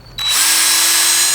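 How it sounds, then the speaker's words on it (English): Power drill reaming a zipper lighter part, whirring up from a brief click into a steady, loud, high-pitched spinning whine with a sustained tonal hum, close and alone. "This is a drill ream."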